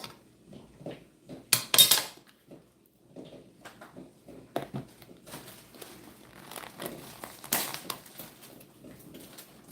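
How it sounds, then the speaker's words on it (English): Plastic Ziploc bag crinkling and rustling in short bursts while someone prepares breakfast away from home, near and fairly quiet, with clinks of a fork and seasoning containers mixed in. "If you're wondering why I'm getting this stuff out of a Ziploc bag"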